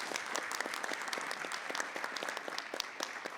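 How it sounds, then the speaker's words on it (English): Audience members at a school board meeting clap in a short burst of applause, individual claps distinct and fairly close, with a few cheers, moderately quiet overall. "Let's give them a great round of applause."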